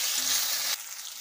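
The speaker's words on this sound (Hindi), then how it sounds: "अभी टमाटर फ्राई हो चुकी है" Chopped tomatoes fry in a pan with ginger garlic paste for a bhindi masala curry: a loud, steady hissing sizzle that abruptly drops to a softer sizzle partway through.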